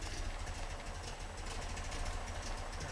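A 1973 VW Super Beetle with a 1745cc engine, Dellorto FRD 34 carburetor and Mofoco 041 heads settling into a steady idle, a close, even low-pitched chug without talking.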